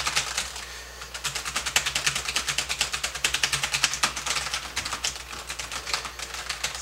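A computer keyboard clatters with quick, close keystrokes in an uneven, continuous rhythm, interrupted by only a few short pauses. No one speaks.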